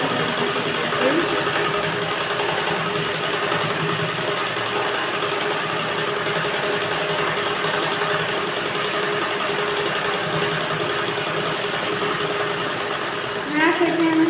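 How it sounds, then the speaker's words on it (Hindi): A sewing machine stitching a blouse runs at a steady, loud mechanical whir with no break for the whole stretch, and a faint shift in tone comes near the end. "सिलाई लगाते हुए"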